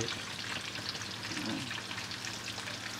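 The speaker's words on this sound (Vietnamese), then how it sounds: "Mình chiên cho nó vàng hai mặt cứng miếng đậu rồi." Pieces of Taiwanese stinky tofu frying golden in a pan give off a dense, continuous, rain-like sizzle that holds at an even level throughout, close by and free of talk.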